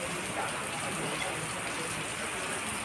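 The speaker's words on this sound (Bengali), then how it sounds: "এখন একদম ঝেঁপে বৃষ্টি পড়ছে।" Heavy rain pours down steadily in a city in Hue, Vietnam, a dense, even wash of close downpour with no break and no voices.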